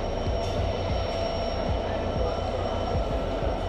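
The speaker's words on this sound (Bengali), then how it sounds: "দেখুন কিভাবে ট্রেনটা ওখানে যাচ্ছে এবং এখান থেকে অন্য একটা লাইনে চলে যাবে এই ইঞ্জিনটা" Train locomotive rolling slowly across onto another track at a station on the Khulna–Kolkata Bandhan Express route, a close, steady rumble with rhythmic wheel clacks over rail joints and a faint high squeal.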